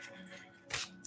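Tarot cards riffle in one short, crisp papery burst near the end, following quiet room tone with nothing else going on.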